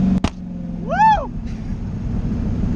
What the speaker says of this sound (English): I don't know why it's backfired.